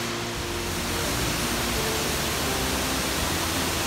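A waterfall in southern Laos roars in a steady, dense rush of falling water, loud and constant throughout with no voices over it.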